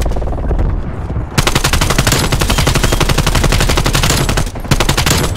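Death Machine gun firing in a Call of Duty-style video game, a loud, close, continuous rapid-fire stream of shots lasting several seconds with a brief dip near the end before resuming.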